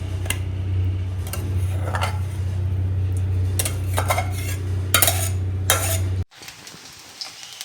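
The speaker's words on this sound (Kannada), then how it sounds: "ರೈಸ್ ಹಾಕ್ತಾರೆ" Cooked rice tipped into a hot pan for egg rice, with metal spoon clinks, scraping stirs and a low steady sizzle before the frying cuts out abruptly near the end.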